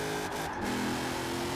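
Trophy truck engine in Forza Horizon 4 revs hard and close, a loud continuous roar climbing in pitch with a brief dip as a gear changes.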